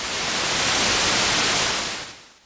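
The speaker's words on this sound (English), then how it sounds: "noise," The noise source of a Malekko Manther synthesizer gives a steady, loud hiss of broadband static lasting about two seconds, then tapering away, heard alone without any voices.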